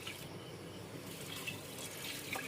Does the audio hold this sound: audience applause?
no